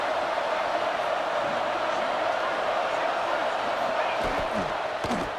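Football stadium crowd roaring on a third down in a Texas Tech game against Florida State, a dense, loud, sustained wall of cheering and noise with a few sharper shouts near the end.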